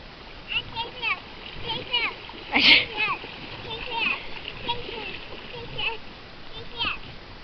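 Tap water splashes and patters as hands are washed, with a voice and an adult talking over it and a sharper splash midway.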